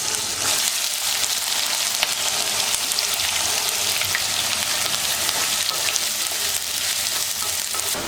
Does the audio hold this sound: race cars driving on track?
no